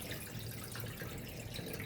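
Water running and dripping steadily while rice is washed by hand in a kitchen sink, a soft continuous wash of splashing at low volume with no voices.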